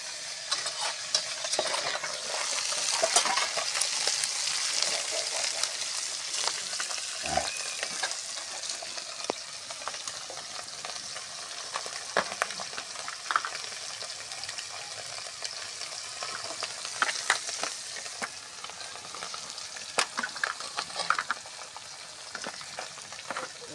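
Tengra fish frying in hot oil in a pan, a steady dense sizzle and crackle running throughout with occasional louder pops and stirring scrapes, close and continuous with no talk.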